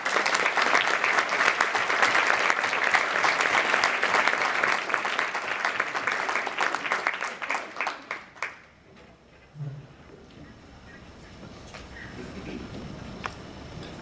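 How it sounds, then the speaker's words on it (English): An awards celebration audience applauds warmly in a hall, the dense clapping lasting about eight seconds before thinning to a few scattered claps and quiet room murmur. "a round of applause."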